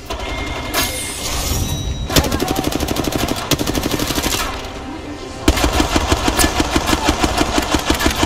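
Sustained automatic gunfire in the battle royale shooter Apex Legends, loud rapid bursts in rhythmic volleys with brief pauses between strings of shots, overlaid on constant game noise and engine-like hum.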